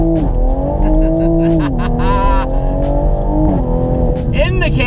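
A 2020 Toyota Supra with the B58 engine drives through canyons, its exhaust droning loudly and steadily with pitch rising and dropping through gear changes, while someone talks over it.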